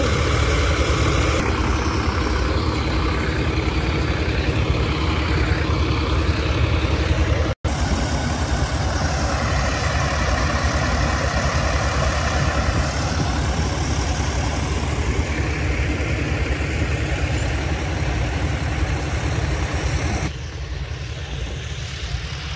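Motor pumps run steadily to drain water from the foundations of the Amaravati iconic towers. Their engines drone at a constant idle close by, with a brief cut near the middle and a slight drop in level toward the end.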